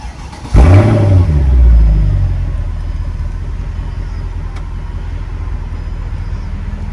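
A 2005-2011 Mercedes CLS engine cranks and fires up loudly, flares into a quick rev, then settles into a steady idle rumble.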